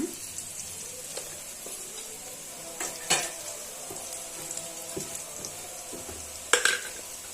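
Potatoes fry in a pan to a golden colour, with a steady crackling sizzle and several sharp utensil scrapes and clinks as they are stirred.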